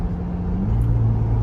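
A 2024 Ford Bronco Raptor's engine drones low and steady, its exhaust note shifting pitch slightly as it runs, heard briefly and continuously without any talking.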